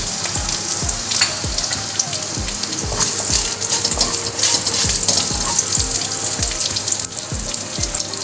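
Ginger and garlic sizzle and crackle steadily in hot oil in a pan, a dense close frying hiss with regular soft scraping taps of stirring throughout.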